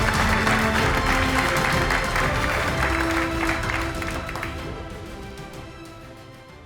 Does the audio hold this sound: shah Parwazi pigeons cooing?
no